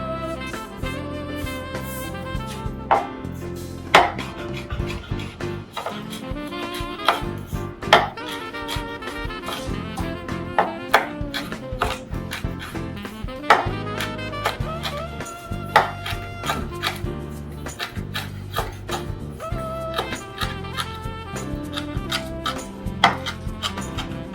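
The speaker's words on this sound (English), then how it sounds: "Get our chef knife. I'm going to chop it up a little bit." A chef knife chops food on a cutting board in a home kitchen, a steady run of quick, sharp taps repeating throughout over faint background music.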